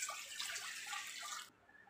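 Water pours steadily into a cooking pot as the first step of a corn jelly recipe, a soft close splashing hiss that cuts off abruptly.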